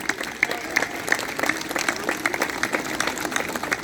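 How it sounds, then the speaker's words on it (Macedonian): An audience applauds steadily at the first state exhibition of Macedonian shepherd dogs, a dense, even patter of many hands sustained throughout with little else heard. "Сакаме еден аплауз за човекот"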